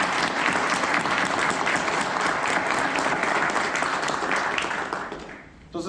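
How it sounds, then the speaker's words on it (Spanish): Loud, sustained applause from a full audience at an engineering conference on tunnel design and construction, constant clapping that dies away in the final second. "Un fuerte aplauso."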